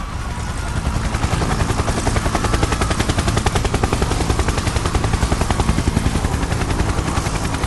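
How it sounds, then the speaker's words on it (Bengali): Steady, loud helicopter rotor thumping in rapid rhythm under a broad engine roar, close and continuous throughout. "পর মুহূর্তে একটা হেলিকপ্টারের শব্দ শুনতে পেলাম।"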